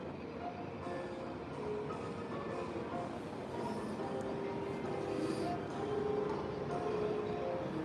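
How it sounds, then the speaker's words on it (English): A train passes through Tokyo at night as a steady, continuous rumble with rolling metallic rail noise, moderately loud and sustained throughout with no break. "Also, look at that train."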